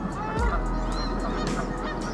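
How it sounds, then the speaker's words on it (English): Greylag and Canada geese honk on a marsh pool at Brandon Marsh, several repeated calls at moderate distance over a steady low outdoor rumble. "common geese like grey lag and Canada"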